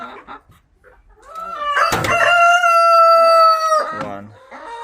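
Laying hens in a chicken coop. A few quiet clucks lead into one loud, drawn-out, tonal squawk close by, then softer clucking trails off afterward.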